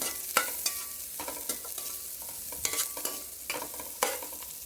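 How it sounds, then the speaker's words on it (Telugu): Onion and green chilli fry in oil in a wide pan for fish curry, a soft sizzle under repeated crisp spatula scrapes and taps at an uneven rhythm, close and fairly quiet. "ఆయిల్లో ఉల్లిగడ్డ పచ్చిమిర్చి వేసుకుందాం. చక్కగా ఫ్రై కానిద్దాం."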